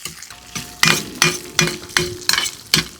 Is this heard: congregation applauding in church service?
no